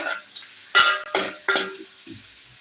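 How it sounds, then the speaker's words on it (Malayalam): Onions being stirred in a hot pan for upma, with three distinct scraping stir strokes over a light sizzle, close and fairly loud, then quieter clinks of the utensil against the pan. "നന്നായിട്ടൊന്ന് ഉള്ളി ഇളക്കി കൊടുക്കാം"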